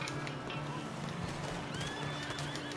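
A horse whinnies and its hooves clip-clop on the ground during a chase from lawmen in Red Dead Redemption 2, with game sounds layered over a continuous busy background.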